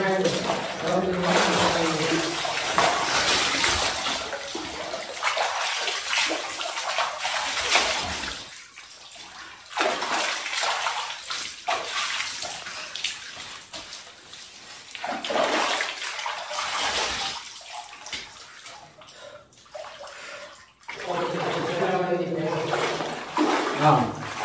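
Clear spring water flowing inside the Gutti Konda Naga Bilam cave, a steady broadband rush that holds throughout with short dips, heard up close with voices at times.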